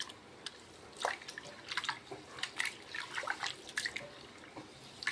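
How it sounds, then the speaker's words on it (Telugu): Rice is washed in a pot and the water poured off, giving soft sloshing, irregular drips and trickling splashes close by. "ఒకటికి 2 సార్లు ఇలా వంపుకొని శుభ్రంగా బియ్యాన్ని కడుక్కుంటే పైన బియ్యం పొట్టు తేట లేకుండా పోతాయి ఫ్రెండ్స్"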